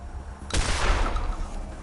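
A single gunshot rings out in Wasteland 2 combat, a sudden loud crack followed by a rough, rattling tail that decays slowly over the next second.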